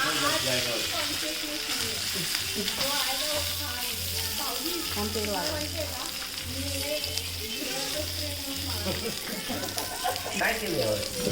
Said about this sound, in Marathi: लसूण टाकतोय आम्ही.